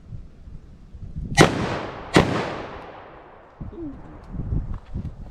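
.44 Magnum revolver fired outdoors with Remington HTP ammunition, two loud sharp reports with a long fading echo, followed by quieter handling noises.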